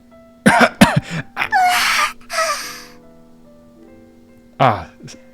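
Several hoarse coughs and throat-clearing sounds in quick bursts, close and fairly loud, followed after a pause by another brief cough.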